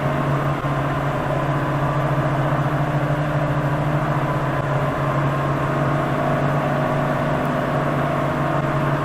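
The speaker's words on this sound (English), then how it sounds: "Going up to 2000 RPM." Fleetwood Flair motorhome engine held at a raised 2000 RPM, heard from inside the driver's cab: a steady, loud, droning hum with a constant pitch and no variation, and no voices.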